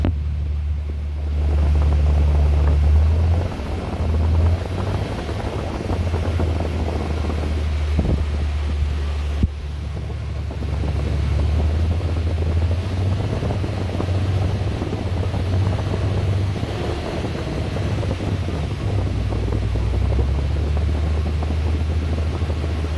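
Steady broadband blowing of a car heater fan, still blowing cold air, over a low engine idle rumble, continuous and fairly loud, with no talking.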